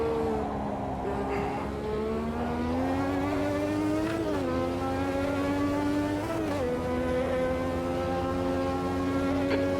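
A Lotus 98 Formula 1 car engine screams continuously in Automobilista 2, its high harmonic tone rising and dipping through upshifts and downshifts as it races, loud and steady throughout with no talking.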